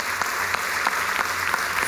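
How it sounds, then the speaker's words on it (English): Audience applause at an annual conference, a dense, steady patter of many hands clapping close by for the whole short stretch. "Ladies and gentlemen, a huge round of applause"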